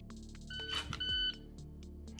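A shot timer gives short electronic beeps during a dry-fire pistol drill, with a brief burst of louder clatter partway through, all fairly faint.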